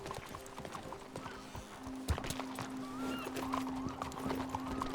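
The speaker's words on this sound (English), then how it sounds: "this is a really nice horse" A horse in the WildRP game clip-clops along at a steady trot with repeated sharp hoof beats, a short whinny and soft ambient tones underneath, fairly quiet overall.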